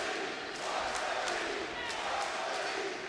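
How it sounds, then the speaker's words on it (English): Wrestling arena crowd at an AEW event, a dense roar of many voices with rhythmic chant pulses recurring about every half second, loud and continuous throughout. "Hear the crowd chanting Varsity."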